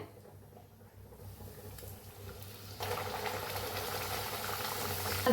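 Puris deep-frying in hot oil, a broad steady bubbling hiss that swells louder partway through and continues without a break, with no voices.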